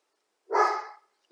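A pet dog gives a single short bark, close and fairly loud, with near silence before and after it.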